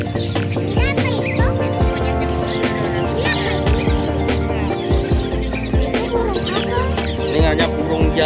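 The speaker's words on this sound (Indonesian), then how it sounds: "Hanya burung" Many small caged birds chirp and tweet continuously at a busy animal market in Banjarmasin, South Kalimantan, a dense layer of overlapping calls with a steady hum of crowd noise beneath.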